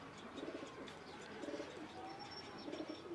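A hybrid rain quail (dogla batair) kept on a rooftop calls in short, repeated phrases roughly once a second, faint and fairly distant against a low background hiss.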